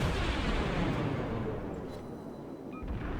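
Heavy naval guns roar in a World of Warships battle as a cruiser fires armor-piercing shells, a dense, sustained rumbling boom filling the whole stretch with no clear pauses.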